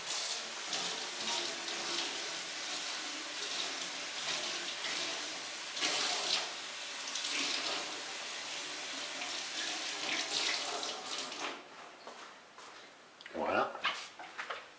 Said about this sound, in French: Je vais rincer l'éponge.